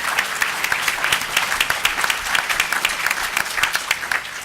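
A steady round of audience applause fills the room at a pre-election panel discussion in Chicago, with dense, even clapping that is close and fairly loud for the whole stretch.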